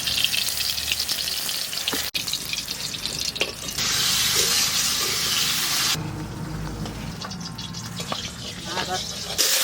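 Brinjal fries lightly in oil in a pan, giving a continuous hiss and sizzle with a steady wash of noise throughout, shifting in intensity partway through.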